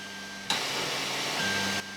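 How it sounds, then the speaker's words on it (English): An Ender 3 3D printer running its Z0 homing routine gives a steady motor whine with broadband mechanical noise that holds for over a second. A faint tone shifts partway through, and the sound stops abruptly. "Each time my 3D printer goes through this Z0 process"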